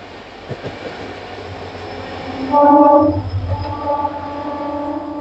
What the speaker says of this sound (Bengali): ফাঁকা ট্রেনের সাথে রেস